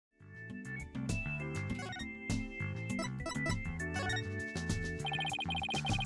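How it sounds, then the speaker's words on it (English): A telephone rings in the video game Ace Attorney: Dual Destinies, a repeating electronic ringtone trilling over steady game music, with no voices present. "Who was that phone call from?"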